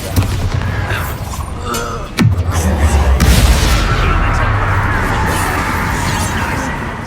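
The Bombarda spell from Hogwarts Legacy detonates with a sudden heavy boom followed by a long rumbling roar and debris, amid continuous battle noise in the game.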